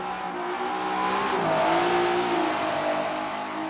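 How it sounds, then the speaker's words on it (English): Holden Commodore fitted with a turbocharged Nissan RB30 straight-six revs steadily, its engine note climbing and holding through the middle before easing slightly, loud and continuous with no voices. "That's an R31 engine."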